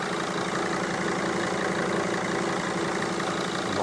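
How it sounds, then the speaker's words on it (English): A Mercedes Sprinter CDI turbo diesel idles with a suspected boost leak, giving a steady, close, continuous diesel rumble with a faint hiss over it, no voices. "Sounded a bit like a boost leak."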